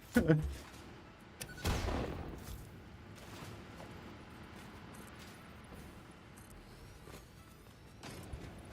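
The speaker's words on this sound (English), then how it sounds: "Explosion." Explosions in the factory-building game Satisfactory: a sharp boom at the start and a second heavy blast shortly after, each fading into a low rumble, followed by quieter game ambience.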